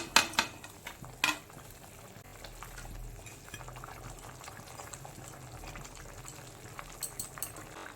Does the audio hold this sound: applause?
no